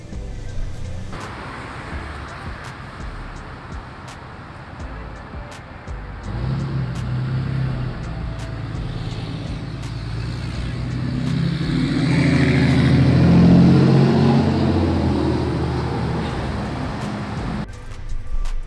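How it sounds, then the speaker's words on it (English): Cars drive past one after another, engines swelling to a loud close pass and then fading, with steady traffic rumble throughout. "get some sound of cars driving by the light"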